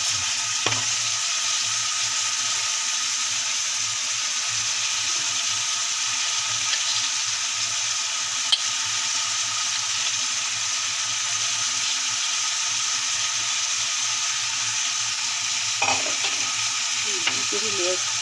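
Cabbage sizzles steadily in a hot pan while a utensil stirs it, with occasional scraping clinks over the constant frying hiss.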